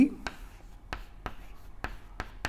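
Chalk or marker writing an equation on a board during a physics lecture, heard as a series of sharp, faint taps and strokes spaced irregularly, with a lecturer's voice in the background.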